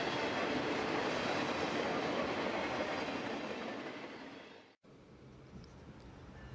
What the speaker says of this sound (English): Amtrak's Southwest Chief arrived with the Virginia City car.